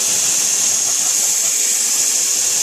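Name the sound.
power sanding through sandpaper grits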